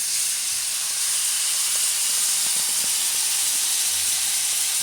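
Peaches dropped into melted butter in a hot pan give a steady, broad sizzling hiss that runs unbroken and fairly loud throughout, with no voices.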